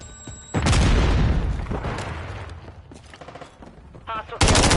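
A Semtex grenade explodes in the Call of Duty video game, a loud sudden blast followed by rumbling gunfire and crackling bursts, with another sharp burst at the end.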